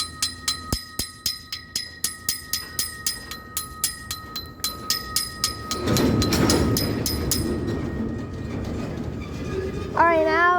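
A Florida East Coast train at a crossing: an old mechanical bell clangs in a steady, even rhythm, then a loud broad rumble swells as the train starts rolling past nearby.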